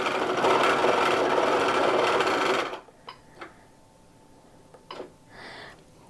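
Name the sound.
Grace Q'nique 16X quilting machine stitching a test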